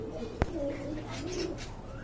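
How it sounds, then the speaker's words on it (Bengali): A pigeon in a collection of local and foreign breeds gives a soft, low coo close by after a sharp click, with faint background noise. "এখানে বেশ কিছু কবুতরের কালেকশন রয়েছে"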